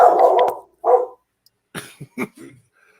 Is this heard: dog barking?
yes